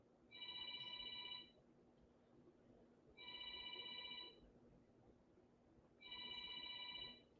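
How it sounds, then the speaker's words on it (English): A telephone rings three times in evenly spaced bursts of about a second each, with pauses between, faint and alone against quiet room noise. "You see how long the man let the phone ring?"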